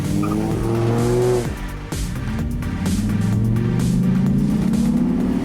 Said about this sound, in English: I love the sound of the V10.